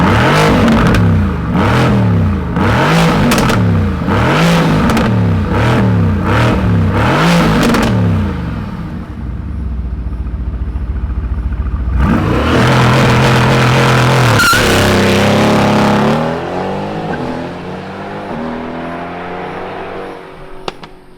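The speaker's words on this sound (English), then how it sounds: "let's go ahead, fire it up, and hear what this Green Hell Mango AMG GT R sounds like." A 2020 Mercedes-AMG GT R in Green Hell Mango fires up with loud, repeated throttle blips over a rumbling idle. After a brief settle, it revs hard again and then winds down into a burbling idle, all with no talk.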